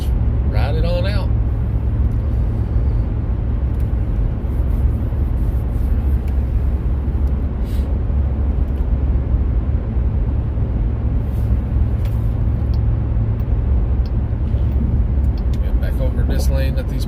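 A hybrid Jeep cruising on a highway with cruise control set, a loud steady road and tire drone with low engine rumble throughout, while someone talks over it.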